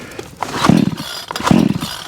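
A Vevor 20 inch chainsaw being pull-started, two loud close rips of the starter cord, each with a short sputtering chug, without the engine settling into a steady run.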